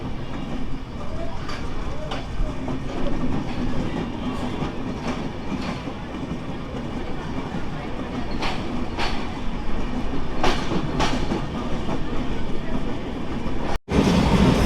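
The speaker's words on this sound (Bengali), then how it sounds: "এটা হচ্ছে দিনাজপুর রেলওয়ে স্টেশনের 1 নম্বর প্ল্যাটফর্ম" A train rumbles steadily beside platform 1 of Dinajpur railway station with rhythmic clacks of wheels over rail joints, a low continuous roar filling the background.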